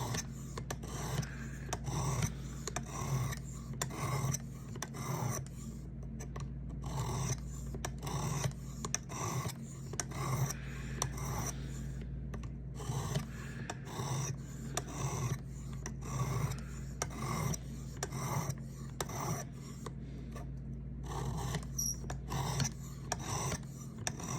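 A file rasps steadily along the edge of a Ferrum Forge Massdrop Buck knife blade in even, repeated strokes, with a constant low hum underneath. The scraping is close and moderately quiet throughout, with no voices.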